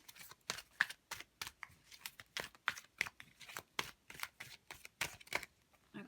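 Tarot cards are shuffled and drawn in a quiet room, a rapid run of crisp, evenly spaced card snaps and riffles, close and soft.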